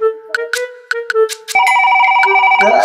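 A phone ringtone plays loudly and close, a few short melodic tones followed by a sustained repeating ring.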